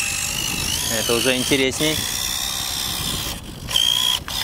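A small motor whines as an RC4WD Gelande II 1/18-scale RC crawler drives up a stream, with rising and falling revs and splashing mechanical sounds under a voice.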